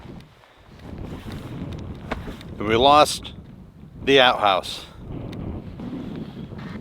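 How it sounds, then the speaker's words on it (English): Strong Arctic wind in northern Norway buffets the microphone with a constant rumbling roar, while a voice speaks over it in two short bursts. "Well, it's pretty fucking windy."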